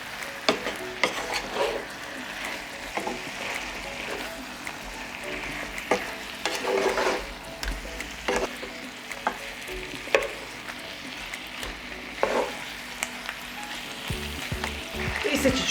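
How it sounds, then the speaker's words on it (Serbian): Pork frying in a pan with soy sauce and Worcestershire sauce, stirred steadily, giving a continuous sizzle with repeated scraping and clinking of the utensil against the pan, fairly close and with no voices. "Promešat ću i pržiti ovako 2 minuta."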